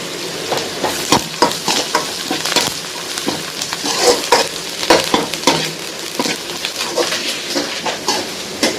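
Curry leaves crackling in hot oil for a chicken dish, a loud, busy sizzle close by with frequent sharp pops and stirring scrapes throughout, no talking.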